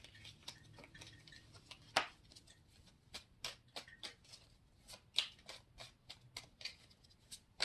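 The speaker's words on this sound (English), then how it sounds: "I'm going to pull some clarifying cards with the Wheel of the Air Tarot." Wheel of the Air tarot cards are shuffled and handled close by, giving quiet irregular ticks, snaps and slides with one sharper card slap, faint against a near-silent room.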